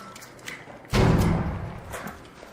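A grenade goes off in the video game ARC Raiders: one heavy, close thud that swells abruptly and then decays over about a second and a half, with quieter game noise before and after.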